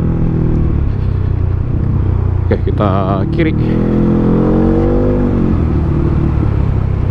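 A Yamaha XMAX 400 scooter with a full aftermarket exhaust is ridden on the road, its loud, close engine drone rising in revs under a rider talking.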